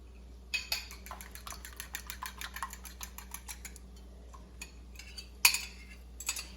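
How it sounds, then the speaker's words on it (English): Eggs being scrambled in a pan for fried rice, giving a run of light metallic clinks and scraping taps from a utensil against the pan, fairly close and steady over faint background hum, with a sharper clatter near the end. "next I'm going to scramble my egg here"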